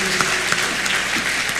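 Church congregation clapping during a worship service, a steady dense wash of applause running throughout with no pauses, moderately loud and fairly close.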